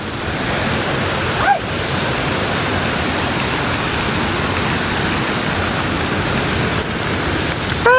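Steady, loud rush of water pouring down Dampalit Falls in Los Baños, Laguna, a dense continuous roar filling the whole stretch with no voices over it.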